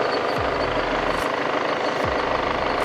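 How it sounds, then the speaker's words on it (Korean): A Volkswagen Golf seventh-generation 2.0 TDI diesel engine idles steadily up close with a constant, even rumble and a faint rhythmic chug. "엔진 소리 일정하고 좋습니다."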